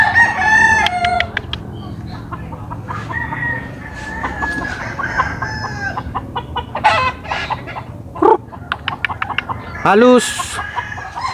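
Lemon Boston gamefowl broodstags crowing close by, with several drawn-out crows and scattered clucks amid farmyard bustle, someone speaking briefly between calls.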